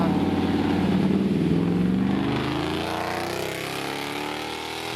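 A supercharged Studebaker R2 Avanti accelerates hard at a drag race, its engine note climbing steeply in pitch and then easing to a steady loud drone as the car pulls away.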